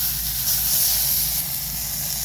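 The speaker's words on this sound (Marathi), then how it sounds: "लगेच फ्राय होती तेलामध्ये" Tender cluster beans (guar) fry in hot oil with a steady, close sizzling hiss that holds at an even level throughout, without any voices.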